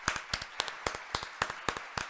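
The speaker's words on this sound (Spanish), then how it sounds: "O aplaudimos todos o no aplaude nadie." Sparse, uneven clapping from a few people at a Halloween costume gathering, pairs of claps recurring in a loose rhythm, close by and fairly quiet.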